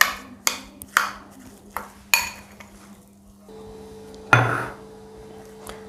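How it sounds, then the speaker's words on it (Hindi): A spoon mixing spices into mashed potatoes in a metal dish, giving several sharp separate clinks and taps at uneven intervals with a louder scrape near the end, close up and with no talking. "अब इसको हम इसी से मिक्स कर लेते हैं चम्मच से।"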